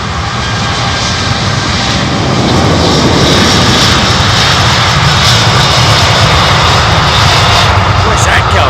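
A jet airliner at London Heathrow Airport gives a loud, deep, continuous rumble that swells slightly and stays steady throughout, close and dominant.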